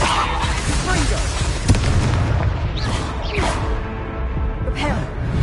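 The Confringo explosive fire spell in Hogwarts Legacy goes off as a series of booming blasts and bursts, repeated several times over busy game effects, while a player speaks over the action.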